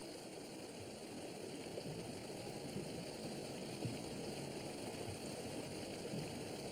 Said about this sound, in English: But the waters are cold and fast.